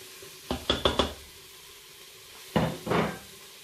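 Spices being stirred into Tunisian chorba in a Cookeo electric pot, heard as a quick run of three or four utensil scrapes and knocks against the pot, a pause, then two more stirring strokes, close and fairly quiet.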